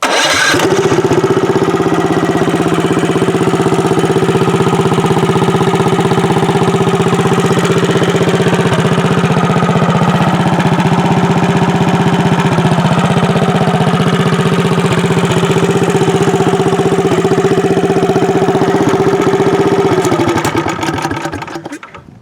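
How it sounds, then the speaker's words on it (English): An engine is fired up using the choke and electric start button, then settles into a loud, steady idle. The even mechanical drone runs alone for about twenty seconds before it is shut off. "So you just flip on the key and find the choke. Hit the electric start button."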